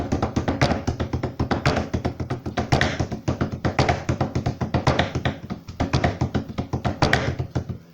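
Rapid hand drumming of the kind once used for communicating across the land, a busy, steady stream of sharp slaps and taps at moderate loudness, with no talking.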